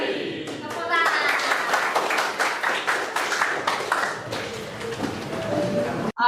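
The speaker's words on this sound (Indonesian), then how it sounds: "Tepuk tangan" A classroom of students claps on cue during a school lesson, with steady rapid hand claps running several seconds and voices mixed in over them, fairly close and dense, ending abruptly.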